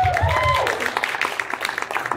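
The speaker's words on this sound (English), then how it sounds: "All right, round of applause for Romeo." Convention panel audience at a furry event applauds, a dense wash of clapping with a voice trailing off over the first half second before steady, fairly loud clapping fills the rest.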